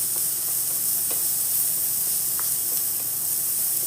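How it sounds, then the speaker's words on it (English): Red bell peppers sizzle softly in a cast iron skillet, a steady hiss with a few faint scrapes and taps of a wooden spoon stirring through them. "Continue to stir with my wooden spoon,"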